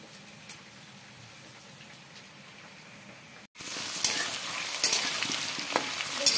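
Potato pieces for a chicken curry fry in oil, heard first as a faint simmer that cuts abruptly to a loud, close, crackling sizzle with sharp spits and pops.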